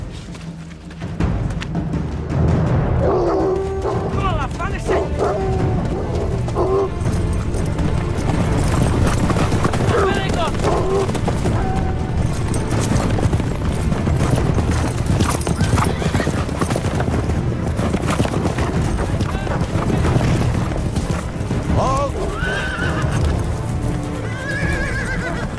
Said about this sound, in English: Get the horses and the hounds.